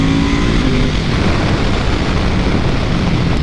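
A 2022 Ducati Supersport 950S motorcycle with its stock exhaust gives a loud, dense, continuous engine roar, close up with no gaps.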